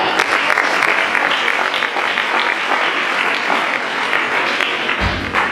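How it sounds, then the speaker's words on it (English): Audience clapping for a pupil at a class 8 school prayer day, a steady dense patter of many hands sustained evenly throughout at close range. "Let us clap for Brenda."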